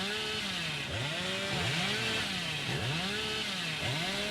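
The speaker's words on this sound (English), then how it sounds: "Beautiful chainsaw coming in by the killer." Killer's chainsaw revving in the video game Dead by Daylight, a loud, continuous buzzing roar with rhythmic rising and falling pitch sweeps, close and alone with no talk.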